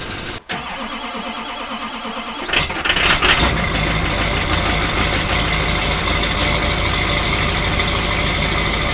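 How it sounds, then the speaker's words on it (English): The diesel Duramax engine of a 2002 Chevy Silverado 2500HD cranks and catches on a rough cold start after sitting overnight, then settles into a loud, close, steady clattering idle. "That was kind of a rough cold start, and the Duramax sat for, I don't know, 16 hours or something."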